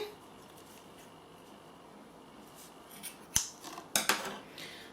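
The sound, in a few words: cutting with scissors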